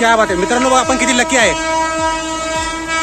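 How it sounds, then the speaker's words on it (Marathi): Train pulling in near a railway line by the Karjat–Lonavala route, its rumble and horn-like tones heard under excited talking from nearby people. "तेव्हा तिकडून ट्रेन पण आली तुरंत."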